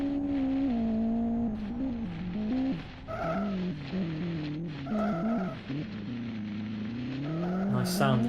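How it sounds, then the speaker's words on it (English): A rallycross race car in the Live for Speed racing game drones steadily, its engine pitch climbing and dipping as it works through corners and toward a jump, loud and continuous throughout. "Nice sound that this car makes as he picks his line into the penultimate jump of the lap."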